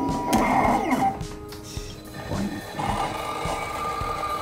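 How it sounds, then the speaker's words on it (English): The motor of a Form Wash resin wash station grinds and whirs unevenly, with rattling, scraping textures and irregular knocks, close by and fairly loud, shifting in pitch throughout. "problem with this machine was a weird noise"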